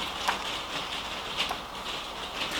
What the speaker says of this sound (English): it's the rain falling on the conservatory roof